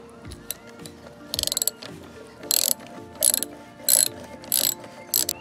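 Ratchet wrench with a 10 mm socket loosening the battery terminal nut on a 1996 Honda 300 Fourtrax ATV, giving short bursts of rapid clicking separated by pauses, close and loud.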